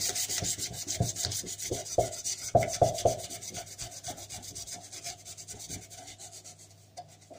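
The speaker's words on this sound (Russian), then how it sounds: "Попробуем шкурочкой." Sandpaper rubs over an old A-8M tube radio in close, rhythmic rasping strokes, strongest early on and tapering off toward the end, with no talk.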